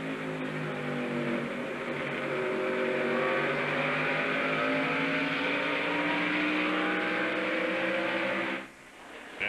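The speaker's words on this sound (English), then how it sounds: "This is on board with Mark Martin." Onboard a NASCAR race car at the 1998 Exide NASCAR Select Batteries 400, the engine drones steadily at high revs with harmonic whine, loud and close, then briefly drops near the end.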